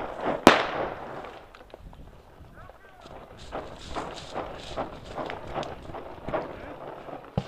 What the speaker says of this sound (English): I just threw a frag at him.